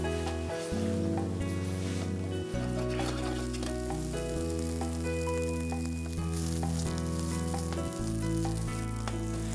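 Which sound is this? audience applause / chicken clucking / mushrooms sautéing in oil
mushrooms sautéing in oil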